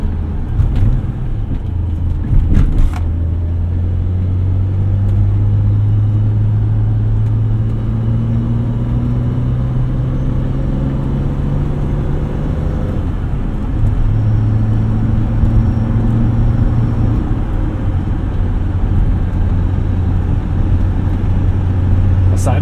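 An original 1986 BMW 325e drives along, its engine humming steadily beneath broadband road and tire noise, with the pitch rising and falling through gear changes and a brief knock near the start.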